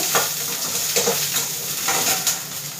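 Ginger sizzles in hot oil in a pan while being stirred, a steady frying hiss broken by repeated scraping strokes of the spoon at a close, moderate level.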